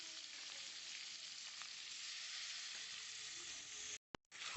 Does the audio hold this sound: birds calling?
no